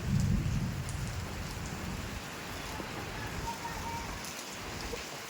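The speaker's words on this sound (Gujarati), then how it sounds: "વરસાદ તો ખતરનાક ચાલુ જ છે" Heavy rain pours down in a dense, continuous roar, with a low rumble of thunder at the start fading under the downpour.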